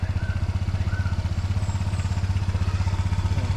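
A motorcycle engine idles close by, a steady rapid low thumping pulse that holds evenly throughout without talk.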